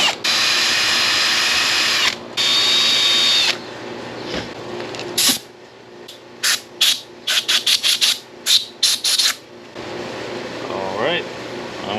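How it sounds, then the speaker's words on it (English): Power drill boring out dried epoxy in a guitar kit build, several short bursts of whining drilling in quick succession, close and loud, outdoors on a windy day with wind noise and talk around it. "So I'm gonna try to drill it out a little bit."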